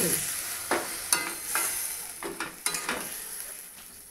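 Drumstick curry with mustard is stirred and fried in a pan: a continuous close sizzle punctuated by repeated scraping strokes of a spatula, roughly every half second.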